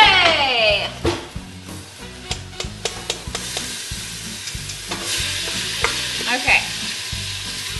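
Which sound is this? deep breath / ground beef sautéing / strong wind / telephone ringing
ground beef sautéing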